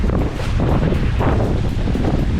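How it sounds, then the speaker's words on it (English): Strong wind buffets the microphone aboard a sailboat under jib in 16 to 17 knots of breeze, a loud continuous roar with gusty surges and faint water wash beneath. "Woo, the wind is picking up."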